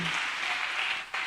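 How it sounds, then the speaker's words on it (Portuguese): Congregation applauding during a church worship service, a dense continuous wash of clapping from a crowd that dips briefly near the end before resuming. "Aplauda mesmo, querido."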